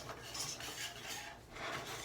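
Kool-Aid play dough mixture being stirred in a pot on the stove, a soft scraping and rubbing of a utensil against the pot in repeated strokes, close and quiet with no voices.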